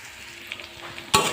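Bitter gourd (karela) frying in a pan for a fish curry, giving a soft, steady sizzle with faint stirring scrapes and then a sharp, louder burst near the end.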